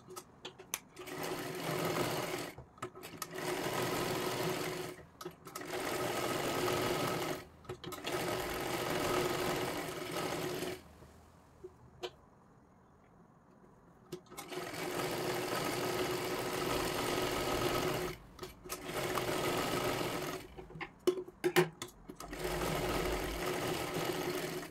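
Close-up sewing machine joining princess-cut blouse pieces, running in repeated bursts of steady whirring stitches separated by short stops and one longer pause, with no one talking over it.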